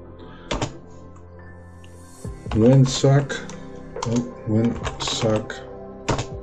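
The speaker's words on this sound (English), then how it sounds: "And we're going to type in some commands." Keys clatter on a computer keyboard as commands go into a Windows 10 batch file, a few scattered clicks and then quicker bursts of typing under a man's spoken words.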